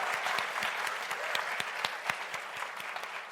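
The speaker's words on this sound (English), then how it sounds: "So let's just give them a round of applause." Applause for a panel discussion at a summit, close and lively clapping with distinct individual hand strikes standing out over a continuous crowd wash.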